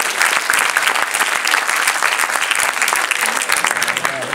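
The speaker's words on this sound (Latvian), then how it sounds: "Aplausīt!" An audience applauds at a film screening event for Prometheus, dense sustained clapping from many hands, loud and close throughout.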